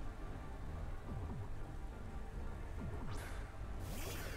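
Rain falls in a Pokemon Sword/Shield battle, a soft, quiet, steady patter with faint distant rumbles underneath and no voices.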